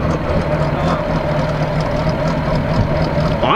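A 12v VR6 car with a straight-piped exhaust idles up close, a loud, steady low rumble with an even throb that holds through the whole stretch.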